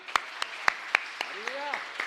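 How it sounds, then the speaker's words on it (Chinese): A church congregation at a Mandarin dedication Sunday service claps in scattered, irregular sharp beats, while a voice rises and falls beneath the claps. "要拍手的就要大声的拍手，将荣耀归给我们主耶稣基督。"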